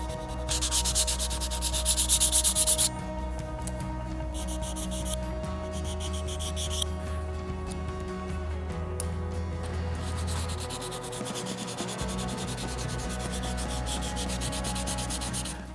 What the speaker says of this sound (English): we'll get to sanding everything else